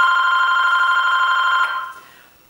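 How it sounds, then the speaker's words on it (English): A household telephone rings with a steady, loud electronic bell tone for about a second and a half, then stops and fades away, with no voices. "every time I start to make a video, the phone starts ringing"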